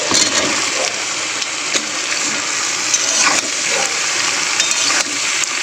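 Continuous hissing sizzle of potato, onion and eggplant frying in a pan, fairly loud and close, with occasional faint stirring knocks.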